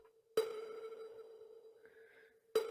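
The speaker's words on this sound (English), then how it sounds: "it also sounds like a heart rate monitor" Two sharp electronic blips, about two seconds apart, each ringing into a faint steady tone, like a heart monitor beeping softly.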